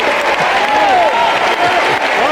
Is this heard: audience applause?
yes